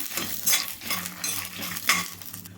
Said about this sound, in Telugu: ఐదు ఎల్లిపాయలు ఎల్లిపాయలు కూడా దీంట్లో వేసేసుకుంటాము